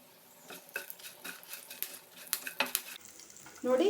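Curry leaves crackle in hot oil for an ivy gourd and chickpea stir-fry as a utensil stirs and scrapes the pan, giving sharp irregular sizzling bursts and clinks that swell into a louder hiss at the end.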